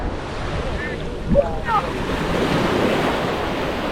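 Steady, broad wash of surf rolls in close by on Samae Beach, Koh Larn island off Pattaya, with wind buffeting the microphone and no voices.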